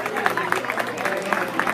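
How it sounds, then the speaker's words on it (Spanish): Applause from a crowd at an outdoor theatre finalists' show in a neighbourhood plaza, brisk scattered clapping throughout with voices audible underneath. "Fuerte el aplauso a ese pavo que está ahí."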